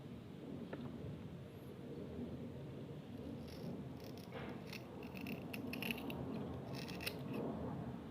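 Scissors cutting tracing paper along a pattern for a homemade stamp, quiet close snips and rustling paper in short bursts over a low background hum.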